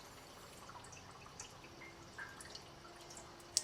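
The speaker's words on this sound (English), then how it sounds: "see how loud the water is that's dropping into the filter socks." Water from a reef aquarium sump drips into filter socks in a quiet room, with a faint steady trickle, soft scattered droplets and a low hum underneath.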